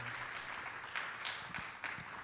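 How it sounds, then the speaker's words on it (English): Conference audience applauding the panelists at an equal-justice event in Dearborn, Michigan: a steady, fairly faint wash of many hands clapping, sustained evenly without a voice on top. "So one more round of applause to our panelists for being here."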